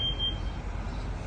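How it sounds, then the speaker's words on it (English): A building fire alarm sounds a single sharp, steady electronic beep that cuts off quickly, leaving a broad rushing background with no talking. "There's a fire alarm going"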